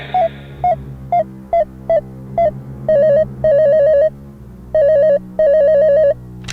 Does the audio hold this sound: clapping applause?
no